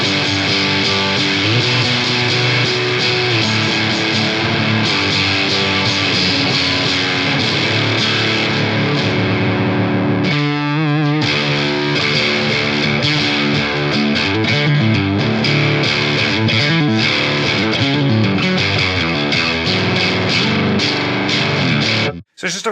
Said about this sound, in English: if we go ahead and mess with the fuzz pedal a little bit, you get some really cool just overdriven sounds out of it